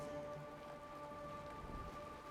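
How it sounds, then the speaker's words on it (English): Rain falls steadily in the video game Honkai Star Rail, a dense, even patter of drops with a faint low rumble and no speech. "It's raining."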